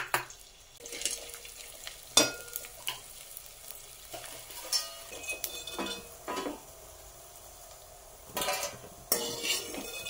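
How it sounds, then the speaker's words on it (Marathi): Edible gum (dink) frying in a pan, with intermittent sharp scrapes and clinks of a utensil against the pan over a soft, fairly quiet sizzle; several louder stirring bursts come and go with no voices. "थोडंसं डिंक टाकते, म्हणजे जेणेकरून तो व्यवस्थित फ्राय करता येईल।"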